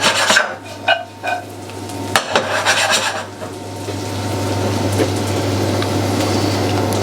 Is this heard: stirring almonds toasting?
yes